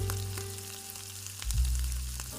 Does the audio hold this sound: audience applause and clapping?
no